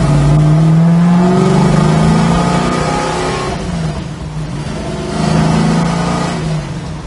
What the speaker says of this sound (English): It's got a real nice sound to it, nice and throaty. It's got a set of flow masters on it